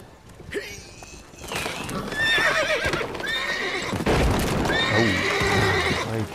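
A horse in The Witcher 3 video game neighs and whinnies loudly several times over hoof clatter and combat noise, a dense and close in-game mix.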